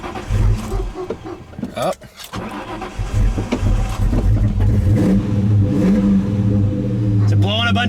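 An old drift project car engine, sitting for a year and a half, cranks and catches on a roughly 50-degree day, then revs loudly and roars continuously close by, with a brief exclamation near the start.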